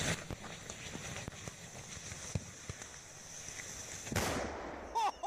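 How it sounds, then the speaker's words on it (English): An explosion sound effect is played as a comparison to igniting thermite, heard as a loud crackling burst with sharp pops and a sudden surge near the end, all at fairly close range. "This is an explosion."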